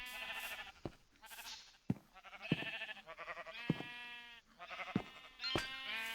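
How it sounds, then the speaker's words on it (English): Several video game sheep bleat in quick succession, wavering calls overlapping with sharp clicks between them, close and clear. "Silly little sheep."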